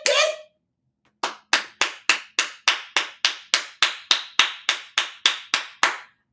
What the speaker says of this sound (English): I have to clap.